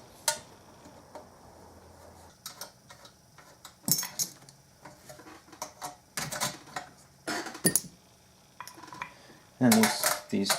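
Metal saxophone keys clink and rattle as they are removed and handled, scattered light taps and clatters close by with quiet gaps between.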